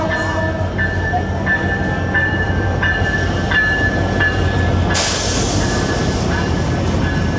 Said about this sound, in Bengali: একটা ইন্টারসিটি ট্রেন কিন্তু সামনে থেকে আসতেছে